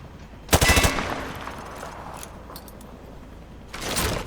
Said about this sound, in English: Private, hit the target through the wood panel.